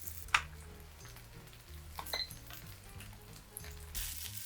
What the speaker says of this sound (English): Flip the fillets and cook flesh side for 1 to 2 minutes or until cooked through